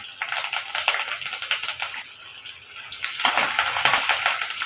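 Garlic cloves pounded for a tiny-onion tiffin sambar, giving close, irregular crushing thuds and gritty knocks, louder toward the end, with no talking.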